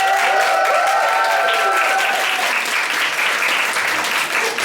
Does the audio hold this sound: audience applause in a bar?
yes